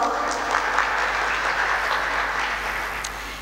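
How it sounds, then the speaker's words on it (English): A seated audience at an artificial intelligence and human capital event gives a round of applause, a steady crackling patter of many hands heard alone, moderately loud and slowly tapering toward the end. "a round of applause"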